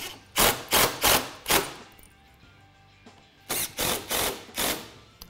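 Original screws being driven back into a 2015-2017 Mustang front bumper during a grille install: two bursts of four short, loud, close mechanical whirring pulses, separated by a quieter pause.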